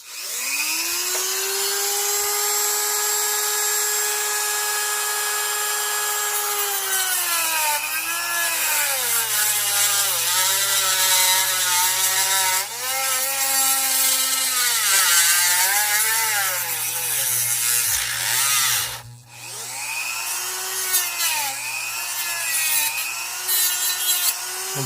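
A saw cuts a piece off an RC drive shaft for a TRX-4 build in long, steady back-and-forth strokes. The close, rasping cut carries sustained tonal squeals that shift in pitch as the blade binds.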